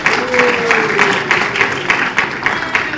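Crowd applause at a mayoral debate hosted by a local business association: brisk, even clapping from the audience, fairly close and sustained, with a faint voice beneath it.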